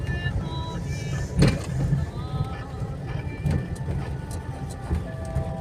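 A car engine pulls steadily in third gear while driving at low speed, a continuous rumbling drone with mechanical whine, speech murmuring underneath.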